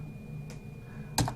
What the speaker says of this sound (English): I'm hitting wrong keys